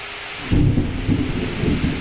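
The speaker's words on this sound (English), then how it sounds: "There was the loudest, closest lightning strike outside my house." A very close lightning strike outside a house gives a sudden loud thunder crack, then a deep rolling rumble that swells and fades in several waves for about two seconds, with no voices.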